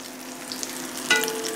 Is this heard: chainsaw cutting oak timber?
no